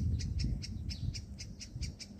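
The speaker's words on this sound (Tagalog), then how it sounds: "The sounds that you hear is sounds of the birds." Rapid, regular bird chirps repeat about four times a second in a date palm plantation in the United Arab Emirates, faint and distant over a low rumbling background.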